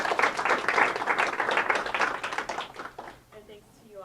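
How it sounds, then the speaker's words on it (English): A lecture audience applauds after a talk on the euro crisis, brisk dense clapping that tapers off after about three seconds, with a voice faintly present. "Let's give her a round of applause."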